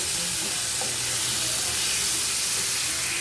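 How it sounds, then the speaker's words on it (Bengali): Onions and potatoes fry together in a pan, giving a steady, loud, close hiss and sizzle of hot oil throughout with no pause. "এখন পেঁয়াজের সাথে আলুগুলাকে একসাথে ভাজবো।"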